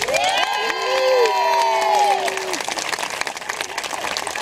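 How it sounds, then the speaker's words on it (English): A crowd at an outdoor park dedication ceremony in Gainesville, Florida claps and cheers for the mayor, with a sung or whooping voice rising above the brief burst before it thins out. "Let's give a nice round of applause to Mayor Lauren Poe, please."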